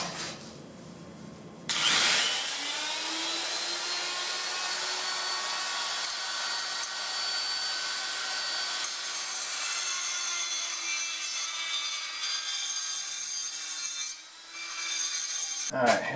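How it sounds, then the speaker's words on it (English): Metal being trimmed with a power cutting tool to fit a turbo on a Suburban: a steady, loud, whining grind that runs almost unbroken for about twelve seconds, with a short pause near the end before the tool resumes. "Let's do a little bit more trimming"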